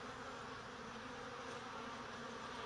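A steady, close buzzing of honey bees streaming in through the bottom entrance of a garden hive, the drone continuous and even throughout with no voices.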